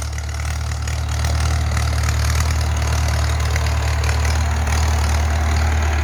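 A Ford tractor hauling wood out of a field, its engine running close and loud in a steady, heavy low throb with a knocking idle character and no talk.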